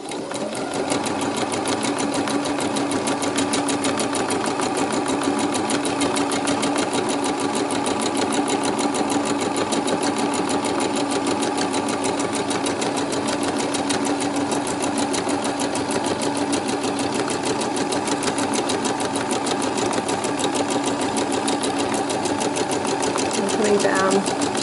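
A sewing machine stitches a Highland cow bag with a steady, continuous mechanical whir and rapid needle chatter throughout, while a person talks over it.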